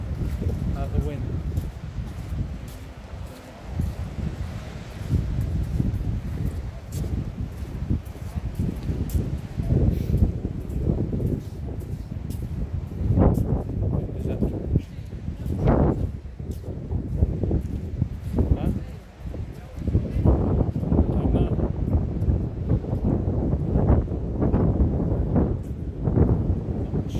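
Gusty wind buffets the microphone on Bournemouth pier on Christmas Day, a loud, ragged roar that rises and falls throughout while a person talks over it.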